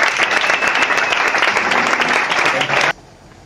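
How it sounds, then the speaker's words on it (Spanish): A crowd claps and cheers for the winner at a slam poetry night in Valencia, a dense burst of applause lasting about three seconds before cutting off abruptly. "un fuerte aplauso para Pedro"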